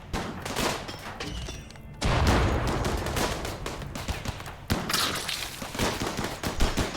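Rapid turret gunfire crackles through a base raid in the video game RimWorld, a dense, sustained burst of overlapping shots that grows louder after a brief lull and keeps going with sharp peaks.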